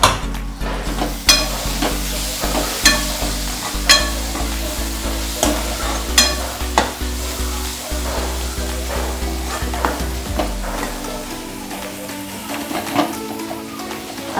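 Dal tadka ingredients sauté in oil in a pan with a steady sizzle, broken by a dozen or so sharp scrapes and clinks of a stirring spoon against the metal pan, close by, with no talking.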